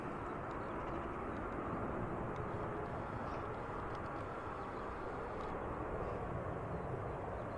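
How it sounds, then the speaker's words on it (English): Finnair airliner taking off at Manchester Airport, a distant, broad steady roar of jet engines holding even loudness throughout, with no voices over it. "Off goes the Finnair"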